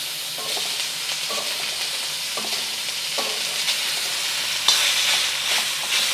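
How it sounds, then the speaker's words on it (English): Bacon fries in a pan, a continuous sizzling hiss with repeated scraping stirs of a utensil and a brief louder clatter toward the end. "Okay, adding the bacon."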